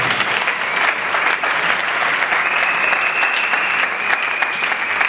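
A church congregation applauds steadily in a continuous wash of clapping, dense and sustained throughout with no pauses and no clear speech.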